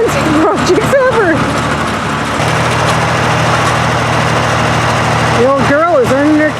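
A tractor engine runs steadily with a post hole auger attached while a sheep barn is built, a loud, close idle hum with a voice speaking over it at the start and end.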